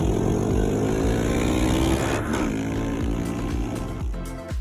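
A Honda CB500F motorcycle engine runs loud and close, with a steady rumbling drone that climbs and shifts in pitch as it revs, and a slight fade at the end.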